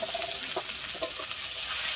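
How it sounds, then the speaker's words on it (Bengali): Cumin paste fries in a pan with a soft, continuous sizzle, and a few light scraping stirs come through near and faint. "আমি জিরেটা কিন্তু হালকা করে একটু ভেজে নিচ্ছি।"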